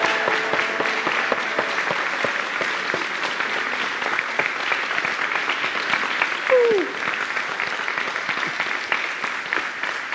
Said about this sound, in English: Let's have some applause for the newest young adults.